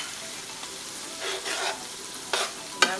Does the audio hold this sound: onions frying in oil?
yes